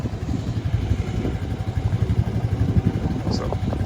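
An old Honda engine runs nearby with a rough, rapid low-pitched throb and clattering pulses, steady throughout, with a voice speaking over it.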